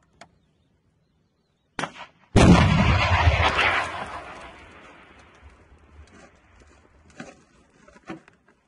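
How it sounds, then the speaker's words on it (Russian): A single heavy tank gun blast booms close by, followed by a long rumbling decay and a few faint clanks and thuds afterward. "Выстрел!"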